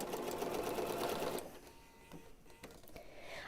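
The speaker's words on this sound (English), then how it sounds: "So I'm choosing to sew on the long flat edge." A sewing machine stitches a long flat seam of pieced quilt backing, running fast and steady at first, then slowing to an irregular patter of stitches before picking up again, close by with no voices.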